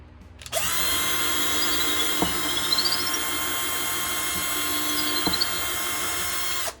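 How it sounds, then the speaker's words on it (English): A drill runs continuously at a steady high whine, with a couple of brief bumps as the bit bites through soft cork. "sometimes you just gotta drill the hole again."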